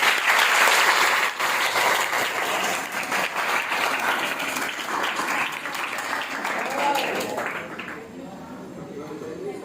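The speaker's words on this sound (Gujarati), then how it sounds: "એ તાળી બજાવો" Audience applause at a school event, dense clapping from many hands that starts loud and fades out toward the end.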